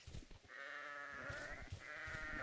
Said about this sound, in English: We also just have my sheep pen. These are fully normal sheep.